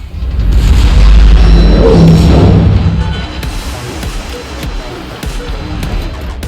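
Secondary guns on a tier 9 German battleship in a naval combat video game fire, producing a loud, deep rolling boom that swells and slowly fades, followed by lighter distant thuds.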